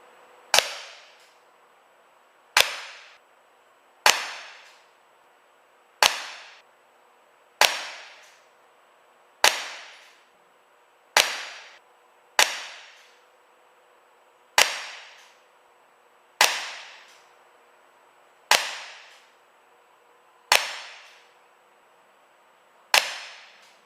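Twelve sharp shots from an ASG STI Duty One CO2 BB pistol firing zinc BBs, each a loud crack with a short ringing decay, spaced about two seconds apart with no talking.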